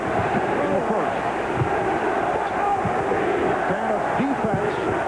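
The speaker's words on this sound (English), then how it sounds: "Defense from the crowd." Basketball crowd at a 1994 NBA playoff Game 7 between the Bulls and Knicks, a steady roaring arena din with rhythmic rising chant swells of defense, loud and continuous throughout.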